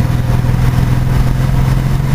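Chevrolet S-10 Blazer 4x4 with a V6 engine, running loud and steady after a rebuild, a deep, continuous low rumble with a faint throb and no voices.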